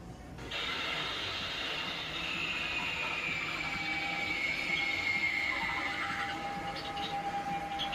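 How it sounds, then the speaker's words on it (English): A broken Halloween animatronic emits a continuous, squeaky, chattering chipmunk-like noise with a thin high whine running through it, loud and close, with no talking. "It's kind of just making noise like a chipmunk."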